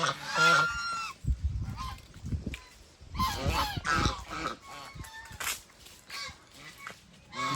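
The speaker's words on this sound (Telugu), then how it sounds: "ఫామ్ హౌస్లో బాతులు, హంసలు మనం చూస్తున్నాము." Ducks and swans at a farmhouse honk and quack in loud, close bursts separated by short quieter gaps, overlapping calls rising and falling unevenly.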